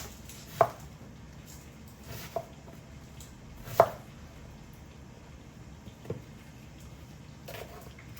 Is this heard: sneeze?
no